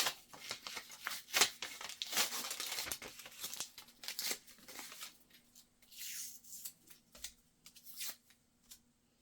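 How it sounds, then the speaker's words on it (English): Sublimated 40 oz tumbler toppers are peeled off transfer paper, giving close, dry crinkling and papery tearing in uneven bursts, loudest early and then thinning into quieter rustles, with no talk. "So now I can remove it from the paper here."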